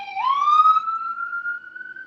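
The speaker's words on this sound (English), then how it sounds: "Somebody has a siren in the background" A siren wails, starting low then sweeping up into a long steady tone, moderately loud and alone for about two seconds.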